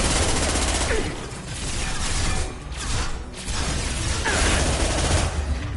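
Rapid gunfire bursts from a shootout in Mass Effect 2, dense and loud, with brief pauses between volleys, no talk.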